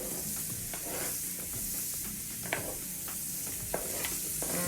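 Jackfruit dropped into a hot pan and frying: a steady hiss of oil with soft crackles and a few sharp spatula clicks, close and moderately quiet, with no talking.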